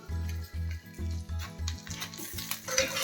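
Corn paneer pulav ingredients stirred in a pan, a spoon scraping in quick regular strokes about twice a second, close and moderately quiet, with light sizzling rising toward the end.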